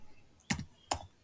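Two sharp keystrokes on a computer keyboard as a search term is entered, close and distinct, spaced almost half a second apart with no talking.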